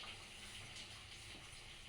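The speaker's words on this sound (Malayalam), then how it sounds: "ഇനി നമുക്ക് ആവശ്യത്തിന് വെള്ളം ചേർക്കണം" Water is poured into groundnut chutney with green chilli, garlic and salt before grinding, a faint steady splashing and trickling at low level with no voices.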